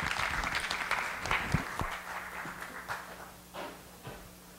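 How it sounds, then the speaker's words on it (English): An audience claps in a warm round of applause that gradually fades, with a low steady hum underneath. "So let's give him a nice round of applause today."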